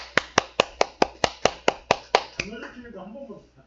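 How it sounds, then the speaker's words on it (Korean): A single person claps hands about ten times in a quick, even rhythm, loud and close, before a voice begins talking. "아, 이럴 땐 박수 한번 할 수 있어요."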